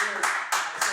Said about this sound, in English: Our laugh track and clapping today is brought to you by Jeff Wittek